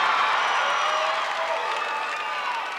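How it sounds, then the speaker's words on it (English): A pro wrestling crowd in the Tulsa Convention Center lets out a long, swelling ooh of surprise, a broad, dense wash of many voices mixed with scattered cheers that slowly fades. "the crowd oohing and eyeing here in the Tulsa Convention Center"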